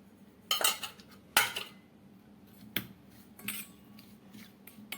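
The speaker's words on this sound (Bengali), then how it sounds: "এভাবে মশলাটাকে ভালোভাবে মিশিয়ে নিলাম" A spice mix with oil for green chilli pickle is stirred in a bowl, giving several sharp spoon clinks and scrapes spaced irregularly over a quiet background.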